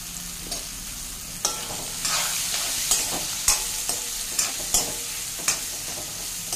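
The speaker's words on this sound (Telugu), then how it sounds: "బీరకాయ ముక్కలు వేసుకుంటాను." Ridge gourd pieces stirred in a hot pan while cooking dal, with a steady sizzle under repeated scraping and clinking stirs at an uneven pace, close and clear, no talk.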